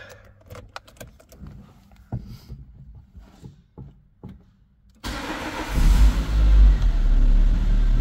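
A 2008 Dacia Logan MCV starts up: faint rustling and clicks of keys at first, then the engine cranks and catches at about five seconds, settling into a loud, steady idle close by.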